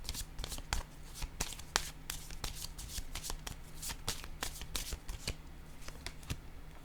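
Tarot cards are shuffled and laid down in a steady patter of crisp riffling clicks and soft slaps, fairly quiet and close, with no talking.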